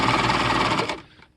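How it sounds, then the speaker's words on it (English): A restored Husqvarna Viking 6440 sewing machine runs a straight stitch at normal speed, a fast, even mechanical chatter that stops abruptly after about a second. "at normal speed, this is straight stitch"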